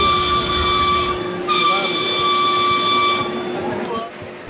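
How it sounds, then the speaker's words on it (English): Calico Railroad train ride at Knott's Berry Farm on a decorated train, heard as a steady, loud rumble of the moving cars with tonal whistle-like hum lines, with some talk mixed in. "this attraction is about a 4-minute train ride on this wonderful decorated train"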